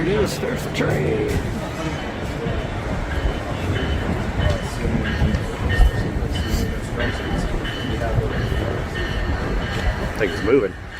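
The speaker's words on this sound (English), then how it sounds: "There it is. There's the train." A train arrives at a station with a rumbling roll, rhythmic wheel clatter and brief squeals that grow nearer, while people talk nearby over the noise.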